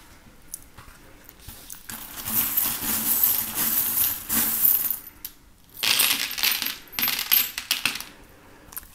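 Small metal divination charms are cast and tumble together, giving several bursts of clinking and rattling with short pauses between, close and fairly loud, with no talking.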